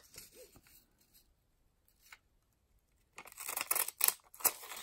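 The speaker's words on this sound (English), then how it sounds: "I absolutely recommend a pair of these scissors." After a mostly quiet stretch with faint rustling, scissors snip through paper in a few quick, crisp cuts close by.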